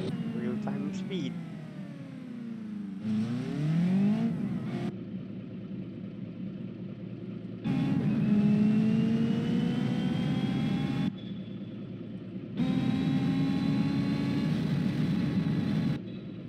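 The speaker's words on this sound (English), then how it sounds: "that's the racer coming down at 240 kilometers an hour and impact" A race car in BeamNG.drive screams toward a crash at high speed, its engine whine climbing steadily in several loud sustained passes, with someone talking over parts of it.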